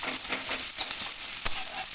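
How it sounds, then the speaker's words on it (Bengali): Onion fries in oil in a wok with a steady crackling sizzle, joined by soft rustles and an occasional scrape as it gets stirred close by. "পেঁয়াজটা একটু ভেজে নেব"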